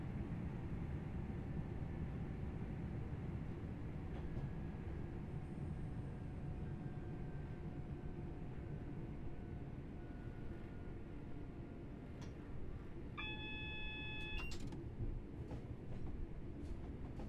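Train wheels clatter over points in Train Sim World 3 on the Manchester to Glossop and Hadfield line, a steady rolling rumble with a brief burst of rhythmic clicks and squeals near the end, no talk.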